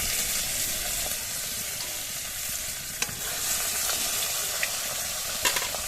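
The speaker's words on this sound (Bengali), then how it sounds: "মাছটা ভেজে নিচ্ছি" Rohu fish pieces, salted and turmeric-coated, fry loudly in a kadai over a clay stove. A dense, continuous sizzle runs throughout with a few sharp spatters and clinks.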